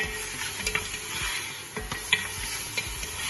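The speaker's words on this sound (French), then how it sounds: "On fait revenir tout ça pour bien colorer la viande." About 500 g of meat sautés in a pan with garlic and ginger, a soft continuous sizzle broken by light stirring scrapes and clinks, with no talking.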